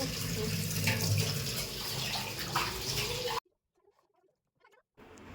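Water runs steadily from a tap while fish is washed in a kitchen, loud and close for a few seconds, then stops abruptly, with faint handling sounds in the quiet afterward before the flow briefly resumes.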